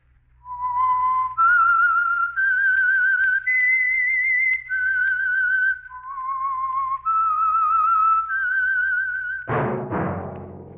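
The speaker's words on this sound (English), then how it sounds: "That whistle is your signal for the Signal Oil program, The Whistler." A clear, melodic whistled tune of about a dozen sustained notes stepping up and down, the opening theme of the old radio drama The Whistler, followed by a sudden loud crash at the end.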